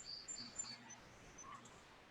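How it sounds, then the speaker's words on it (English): Faint high chirps and short tweets of birds sound from a distance over a quiet background hiss. "I hear those birds in the background."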